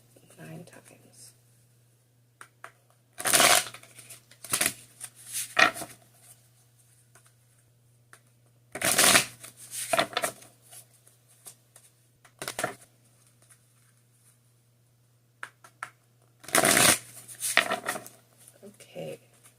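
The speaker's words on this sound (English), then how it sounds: "We're shuffling 9 times." Tarot cards are shuffled in short bursts of crisp riffling and flicking, several separate rounds close by with quiet pauses between, while a soft voice whispers at times.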